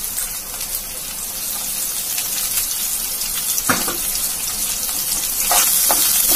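Sliced onions fry in a pan with lentils already browned, giving a continuous bright hiss and sizzle, close and fairly loud, with a few sharper crackles and no talking.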